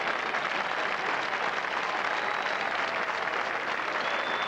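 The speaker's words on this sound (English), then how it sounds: "And listen to the applause for Kite and for Ballesteros." Steady, dense applause from a large golf gallery at the 1986 Masters at Augusta, a broad continuous wash of clapping from a distant crowd that holds even throughout with no voices over it.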